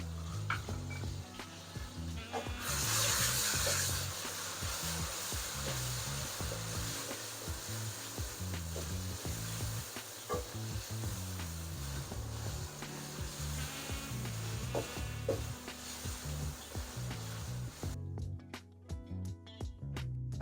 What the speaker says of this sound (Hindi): लहसुन अदरक को भी थोड़ा सा फ्राई करना है।